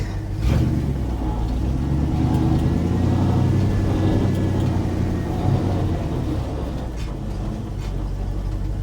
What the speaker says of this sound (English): I don't know why it's falling on its face. Acts like it's running out of gas